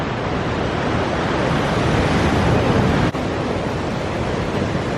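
Ocean waves surging onto the shore at low tide, a steady loud roar of surf and wash that fills the whole stretch without pause.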